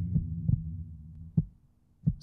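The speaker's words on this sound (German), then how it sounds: "So ruhig, dass ich meinen eigenen Herzschlag hören kann." Heartbeat sound effect in a German audio drama: four low, muffled thumps at an uneven pace, the middle gap longer, heard alone against near silence.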